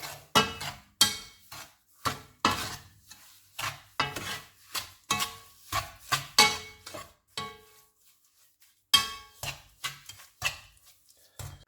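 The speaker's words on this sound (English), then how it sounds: "we can then add it to the fruit and stir it in" Sugar being stirred into fruit in a pan for homemade jam, heard as a run of short scraping and clinking strokes in an uneven rhythm, close and moderately loud, with one brief pause and no talking.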